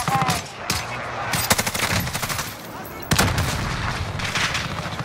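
Heavy gunfire hits the player in the Call of Duty: Warzone video game, with loud, continuous bursts of automatic fire, sharp gunshots and booms filling the whole stretch.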